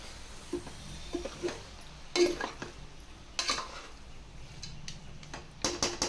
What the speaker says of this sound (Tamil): இது நல்லா இந்த மசாலாவோட நல்லா கிளறி விட்டுக்கிடுவோம்